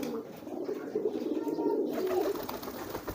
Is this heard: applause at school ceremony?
no